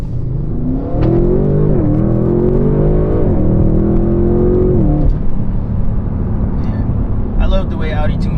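An Audi RS6 accelerating hard, its engine note rising in pitch through a gear, dropping at a fast shift and climbing again before easing off, loud and close with a faint voice near the end.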